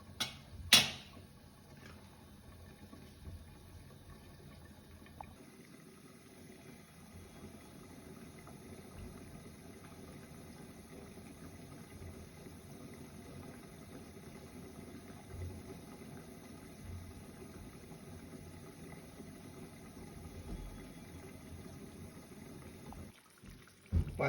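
A gas stove burner roars steadily on high flame beneath a covered pan of egg, potato and eggplant curry, a low continuous rushing hum with faint ticks and a couple of sharp knocks near the start.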